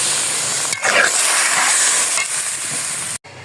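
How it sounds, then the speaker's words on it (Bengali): Cumin paste hits a hot cooking dish, setting off a loud, steady hissing sizzle that swells briefly after it goes in and then keeps going close up before cutting off abruptly. "এখন এই যে জিরা বাটা দিয়ে নামিয়ে ফেলবো।"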